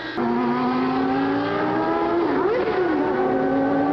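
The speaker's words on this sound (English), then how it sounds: "Sounds like gearbox trouble." A 1989 Formula One car engine with gearbox trouble drones steadily at high revs during the German Grand Prix, with a brief dip and wobble in pitch partway through, loud and continuous without voices.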